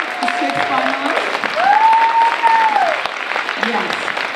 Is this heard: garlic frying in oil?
no